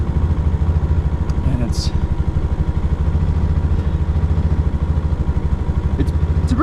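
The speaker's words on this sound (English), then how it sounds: "I've had this little air compressor for a long time" A small portable air compressor, strong enough to fill a 35-inch Bronco tire, runs steadily with a rapid, pulsing mechanical chug at a constant level, and a brief voice speaks over it near the start.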